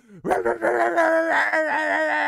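A person's voice mimics a dog barking and howling behind a closed gate, a loud close sequence of yelping barks that stretches into a drawn-out, wavering howl.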